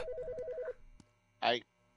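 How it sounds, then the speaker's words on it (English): In the video game Autopsy Simulator, a telephone rings with a rapid warbling electronic trill for under a second, followed by a short spoken exclamation. "The fucking phone."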